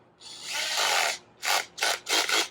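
A cordless drill's clutch ratchets as it drives a bit: one long clicking burst followed by three shorter bursts, close and loud, with no talk.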